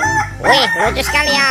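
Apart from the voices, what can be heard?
rooster crowing, from a toy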